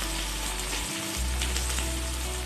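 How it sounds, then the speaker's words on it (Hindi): Potatoes frying in a pan for sabudana khichdi give off a steady, close, dense sizzle that continues unbroken, with no talking. "पहले आलू को थोड़ा सा भूनूंगी"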